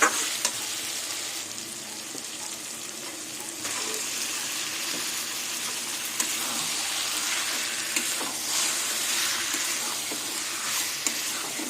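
Small pieces of boiled chicken frying in oil in a pan as taro greens are added and stirred: steady close sizzling with occasional scraping stir clicks, continuous and without talk.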